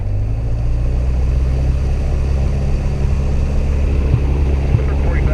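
A light aircraft's propeller engine idles at 1,000 RPM on the ground at Syracuse, a steady low droning hum with a faint buzz, close and constant throughout.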